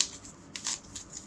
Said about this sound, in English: So I shuffle all these again